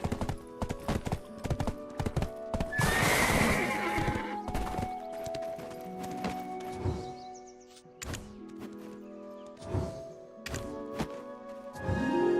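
A horse whinnies loudly while hooves clop in a steady rhythm, with tonal background music underneath, in the video game Black Desert Online.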